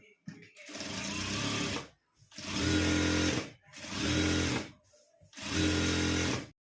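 A sewing machine stitches denim cut from old jeans in four loud bursts of rapid mechanical whirring, split by short pauses, with a faint click in between.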